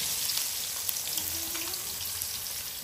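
Onions going into hot oil for a chicken curry make a steady, close sizzle and crackle of frying throughout, with no one speaking.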